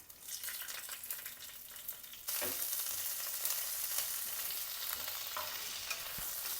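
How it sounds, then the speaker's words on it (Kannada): Hot oil in a pan with cumin, curry leaves, crushed garlic and green chillies added, a steady close sizzle that jumps louder as the ingredients go in, with occasional stirring scrapes and no voices. "ಈಗ ಈ ಒಂದು ಪಲ್ಯಕ್ಕೆ ನಾನು ಸ್ವಲ್ಪ ಆಯಿಲನ್ನು ಹಾಕೊತಾ ಇದ್ದೀನಿ ಇವಾಗ ಇದಕ್ಕೆ ಸ್ವಲ್ಪ ಜೀರಿಗೆನ ಹಾಕೊತಾ ಇದ್ದೀನಿ"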